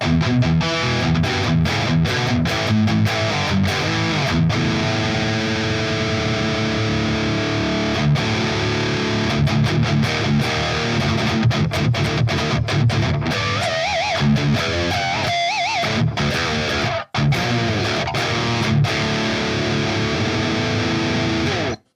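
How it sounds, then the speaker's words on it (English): A cheap Jazzmaster-style electric guitar plays loud, heavily distorted metal riffs in dense, driving chugs that run almost without a break, with a brief cut near the end. "A guitar that plays cleans and kind of low gain rock and roll riffs does also play metal."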